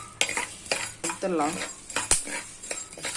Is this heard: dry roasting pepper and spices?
yes